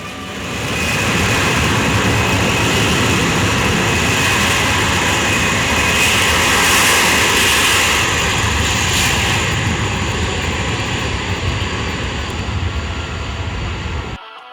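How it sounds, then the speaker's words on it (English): A C-17 military transport jet takes off from a runway near a taxiway, its engines a loud, steady, broad roar that fills the whole stretch, swelling slightly midway before cutting off abruptly at the end. "watch a C-17 military take off into the wild blue yonder"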